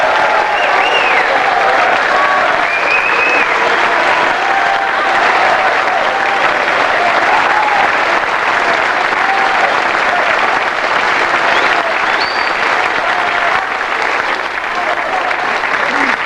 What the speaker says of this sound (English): A round of applause too, please, for the referees who've done such a magnificent job over the full 9 days.